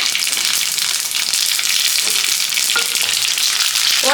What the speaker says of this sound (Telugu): బిర్యానీ ఆకు గరం మసాలా అంతా వేసి వేయించుకోవాలి బాగా